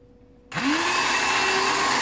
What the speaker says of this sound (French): Alors comme on a un mixeur assez bruyant, on se retrouve tout de suite après le mixage de la soupe.